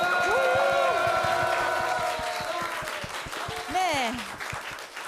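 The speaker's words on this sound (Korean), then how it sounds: "여러분들 이 함성 소리가 들리십니까?" Studio audience of Dongsung High School students cheering and applauding at a Catholic broadcast talk show taping, a loud mix of clapping and shouts that slowly thins, with a brief spoken word from a host.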